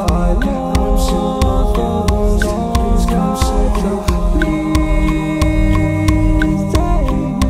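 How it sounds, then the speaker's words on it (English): A layered song plays with a sharp, steady metronome click ticking on every beat above the music, loud and continuous. "If I put on the metronome, it sounds like this."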